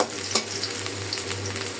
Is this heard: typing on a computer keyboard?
no